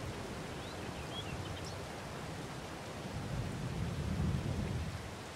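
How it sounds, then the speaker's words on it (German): Steady rain hiss with low rumbling thunder in Farming Simulator 22 on the Alma Missouri map, a continuous broadband wash that swells louder toward the end, with no voices. "jetzt regnet das"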